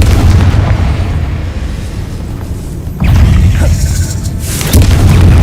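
Confringo spell blasts in Hogwarts Legacy, loud booming explosions with a heavy rumble, a sharp burst near the middle and another swell toward the end, no talking.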